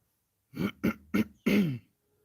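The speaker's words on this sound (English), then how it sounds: "If you need to, clear your throat." A person clears their throat in a few short, rough bursts followed by a longer, throatier rasp, close and alone.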